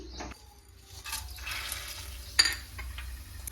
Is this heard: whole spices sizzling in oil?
yes